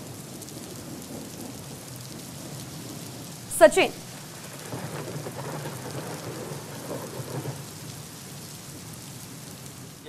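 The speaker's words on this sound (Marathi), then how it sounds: "गेले काही दिवसापासून पाऊस पडतोय" Rain falling steadily at Khadakwasla Dam near Pune during a downpour, with a sharp crack and rumble of thunder a few seconds in, and a voice faintly present under the wash of rain.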